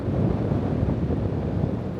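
Ocean waves and wind at the Clarence River mouth: a steady, close, loud roar of surf with wind buffeting the microphone throughout, and no voices.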